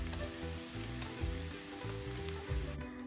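Something lightly frying in a pan before chopped tomato goes in, a quiet even sizzle with faint stirring, heard alone under a low background hum.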